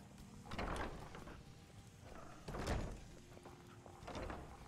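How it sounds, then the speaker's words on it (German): A door in the video game Skyrim opens with a few soft, separate thunks and creaks, fairly quiet and close, with no talk over them. "sie kann Türen öffnen"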